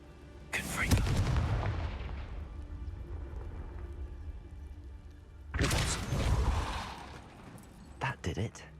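Confringo blasting spell from Hogwarts Legacy, a video game: two loud booming explosions, one at the start and one midway, each with a rumbling tail, then a few short sharp cracks near the end.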